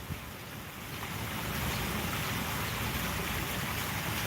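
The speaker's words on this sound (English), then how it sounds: "Now, the waterfall is here." A waterfall in Palm Springs, California gives a steady, loud broadband rush of falling water that swells slightly after the first second and holds evenly, with no voices.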